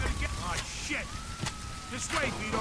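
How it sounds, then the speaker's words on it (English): Fire sprinklers in the Mafia II video game hiss with a steady rain-like spray of water, heard under game voices and scattered clatter. "The sprinklers are going off."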